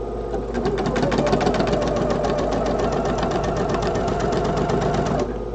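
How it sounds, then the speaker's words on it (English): A sewing machine stitches quilt fabric squares into pairs, a loud, close, rapid steady mechanical chatter with a low hum, running continuously for about five seconds before stopping. "I'm just going to go ahead and sew these into pairs, all of them"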